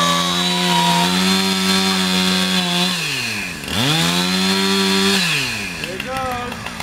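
A chainsaw cuts down a Christmas tree in the bush, its engine buzzing loud and close, revving up and down with clear pitch dips as the cut progresses.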